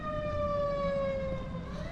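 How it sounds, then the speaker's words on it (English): A fire truck siren wails steadily as the truck passes, a sustained tonal howl with rich harmonics that dips slightly in pitch, heard alone over a low rumble of traffic. "I've never heard a siren like that before, but a fire truck just passed by."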